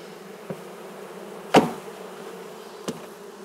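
Bees buzzing right at a microphone outdoors, a low steady droning hum broken by a few sharp knocks as insects bump into it.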